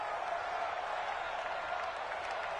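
Home crowd in a football video game, a steady broadband roar of cheering and applause that holds at an even level throughout without breaks.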